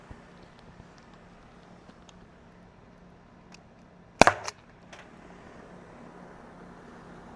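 Byrna CL less-lethal launcher firing, a single sharp, loud report with a quick trailing echo that rises abruptly from a quiet outdoor background.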